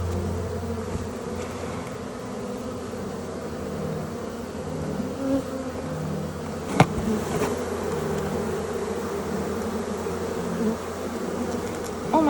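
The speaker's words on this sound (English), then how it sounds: "there's so many bees on the bottom of this hive" Dense honeybee buzzing fills the air around an open beehive, with masses of bees clustered on the bottom of the hive; a steady close drone continues throughout, with one brief sharp knock partway through.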